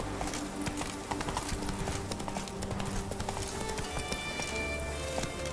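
Horse hooves galloping at a steady rapid rhythm in The Witcher 3, continuous clip-clop close by over a low ambient bed, with no talking.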